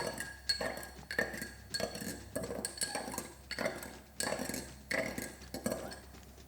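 A spoon stirs coffee for an Irish coffee, clinking repeatedly against the glass or cup in quick bursts of bright metallic taps, close and distinct with no speech.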